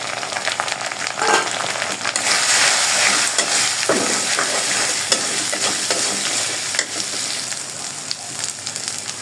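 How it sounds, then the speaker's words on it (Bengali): Spice paste with onion, ginger-garlic, turmeric, chili, cumin and coriander frying for a fish head muri ghonto, giving a loud continuous sizzle with spoon scraping and stirring all the way through. "এখন ভালোভাবে মশলাটাকে দিয়ে কষাবো"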